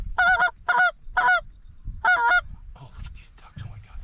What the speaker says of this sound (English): Geese behind us